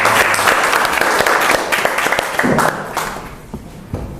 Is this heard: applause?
yes